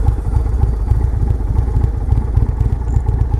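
A 2019 Indian Chieftain bagger with a 116 cubic inch V-twin being ridden, its engine running in a steady, loud rumble with rapid low pulsing and clatter, close up and heard alone.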